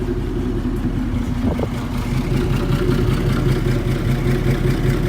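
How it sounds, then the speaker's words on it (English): A 1970 Chevrolet C-10 pickup's Vortec V8 idles steadily with a deep, low rumbling exhaust note, constant and fairly loud, with a faint brief clatter partway through. "It's got a nice little exhaust note here on idle."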